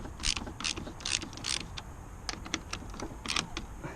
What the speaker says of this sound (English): Now I'll take this aircon rad off.